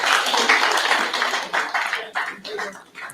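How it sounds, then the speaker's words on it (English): An audience at a World Veterinary Day event in FCT claps for the Director of Veterinary Services, a steady roomful of applause with loose overlapping hand claps, close and loud, with voices mixed in. "Can we keep clapping for him until he has a seat?"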